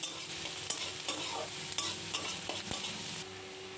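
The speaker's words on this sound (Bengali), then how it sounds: "এবারে দিয়ে দিলাম দুটো শুকনো লঙ্কা, আবারও নেড়ে চেড়ে নিচ্ছি। পেঁয়াজটা হালকা ভাজা ভাজা করতে হবে।" Onions and two dry chillies being stirred and fried in a pan, a constant close sizzle with scraping strokes of the spatula at irregular intervals.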